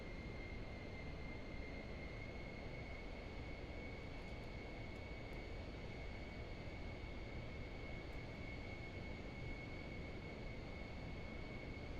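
The updated Albatross aircraft in Microsoft Flight Simulator 2024 drones steadily through a landing approach at about 125 to 130 knots, a constant, even engine roar with a sustained whine that runs unbroken throughout.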